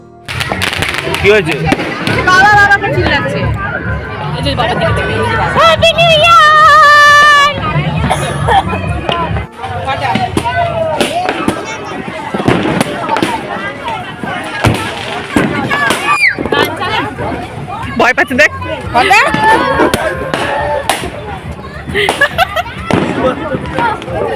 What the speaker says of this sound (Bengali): চারিদিকে শুধু বাজি ফাটছে